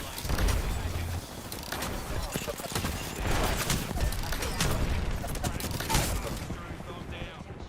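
Rapid weapon fire from an R-star gun in a science-fiction shooter game, bursts of shots and mechanical clatter running continuously at close range over dense game noise, with voices talking throughout.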